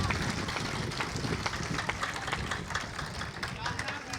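Audience at an outdoor Hindi kavi sammelan gathering for a Parshuram statue installation claps in a dense, uneven patter of many hands, moderately loud and close, with crowd murmur mixed in.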